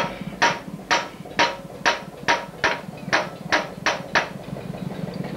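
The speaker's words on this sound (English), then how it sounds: "This job requires the most technical of tools, like a fully adjustable vernier rod and a hammer." A hammer striking metal in a steady rhythm, about ten sharp, close, evenly spaced blows over a low background hum.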